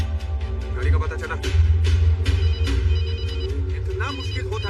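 A telephone rings unanswered in a Hindi film scene, its repeated ring tones sounding under overlapping voices and background sound.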